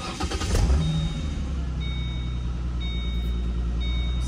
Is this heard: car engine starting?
yes